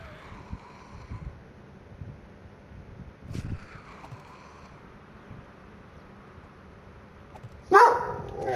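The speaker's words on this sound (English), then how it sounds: "Sorry, that was my dog." A nearby dog barks from the room during a 7 Days To Die gaming session, with faint yips and whimpers early on and then a sudden loud bark close to the end.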